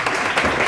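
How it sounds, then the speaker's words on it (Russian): A live apartment-concert audience breaks into a brief, dense burst of clapping, close and steady. "Похлопаем."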